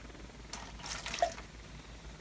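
A soft liquid splash and trickle as photographic developer is poured onto a plate, brief and close, over a quiet room hiss.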